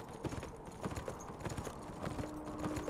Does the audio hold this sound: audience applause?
no